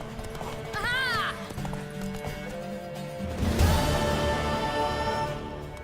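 Hooves clip-clop in a quick rhythm as a horse whinnies loudly in The Witcher 3: Wild Hunt, followed by a louder burst of galloping and commotion.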